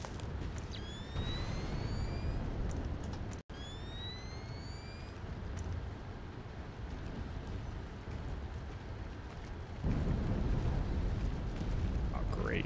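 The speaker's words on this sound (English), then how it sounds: "And explosion goes off." Explosion in the stealth video game Splinter Cell: Chaos Theory, a loud rumbling blast with a sharp cut and dense low roar that swells again near the end, over game sounds and faint talk.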